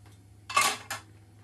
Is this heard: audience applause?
no